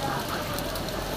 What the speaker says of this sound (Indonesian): Diguyur hujan Jakarta.